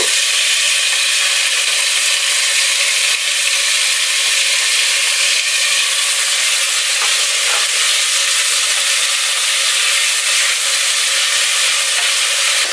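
Chopped onion, minced garlic and jarred chopped ginger sizzle steadily in a pan, a loud continuous hiss with no talk over it.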